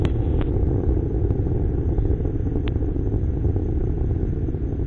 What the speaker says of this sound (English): Solid motor is beginning to taper off.